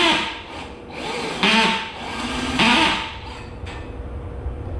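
Old DeWalt power drill running in bursts, whirring and straining under load with a couple of pitch swells before it winds down, close and fairly loud over a background hum.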